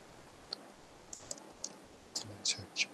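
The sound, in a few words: computer keyboard clicking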